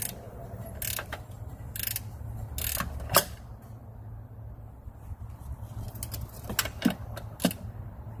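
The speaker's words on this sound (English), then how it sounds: "So use a wrench on this one." A wrench turns a strut bolt on a 2014 Nissan Rogue, making quiet ratcheting clicks and metallic taps in short irregular bursts over a low background hum.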